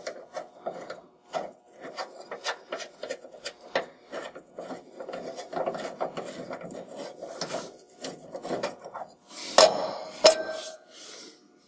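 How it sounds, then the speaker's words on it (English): A sway bar link nut is worked loose on a 2014-or-later Dodge Ram 2500/3500, heard as a run of quick, close ratcheting clicks and metallic rasps with short pauses and a couple of sharper clanks near the end. "The first step is going to be to remove the nut that is attaching the sway bar link."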